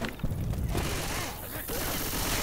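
Dense, continuous gunfire in the co-op zombie shooter Left 4 Dead 2, a steady rapid fusillade filling the whole moment with only a brief dip, while players talk over it.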